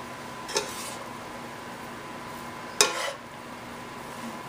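Fried rice with egg being stirred in a pan: a soft background sizzle with two distinct clinks and scrapes of a utensil against the pan, close and moderately loud.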